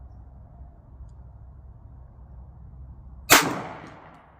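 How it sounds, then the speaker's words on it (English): A single Glock 19 pistol shot fired with iron sights at a 10-inch steel plate 100 yards away, one sharp loud crack with a short decaying tail after quiet outdoor background hum. "100 yards. Glock 19, no red dot on."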